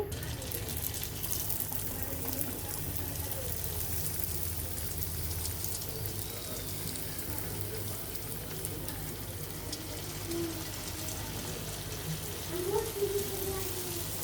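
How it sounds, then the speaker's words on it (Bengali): Phuchka puris deep-fry in oil on a medium-high flame, making a steady close hiss and bubbling sizzle that carries on unbroken, with a few brief splashy flares near the end. "এভাবে আমরা সবকটি ভেজে নিব।"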